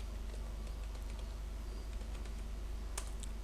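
Soft clicks of number keys being typed on a computer keyboard into a spreadsheet, faint and scattered over a steady low background hum, with one sharper click near the end.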